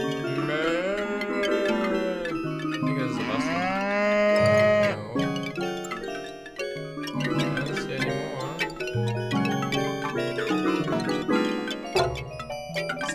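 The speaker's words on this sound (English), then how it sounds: "Look at this angry cow." Angry, infected cows in a cow video game moo again and again in loud, drawn-out, wavering bellows that overlap, with no talk over them.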